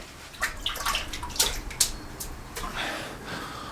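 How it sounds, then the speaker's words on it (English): A plastering trowel being rinsed in a bucket of water while plastering a curved ceiling, giving a run of splashy sloshing and scraping swishes, with a few sharper wet strokes, close and fairly quiet. "just slide it up over it like that in your water bucket, and that takes everything off"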